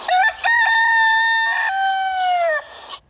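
A rooster crows a loud, close, drawn-out cock-a-doodle-doo used as a sound effect, with a short stuttering start rising into one long sustained call that drops off at the end.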